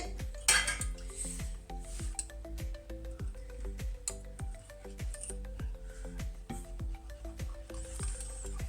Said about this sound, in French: Alors, je remue.